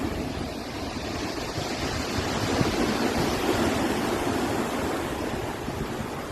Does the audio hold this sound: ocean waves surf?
yes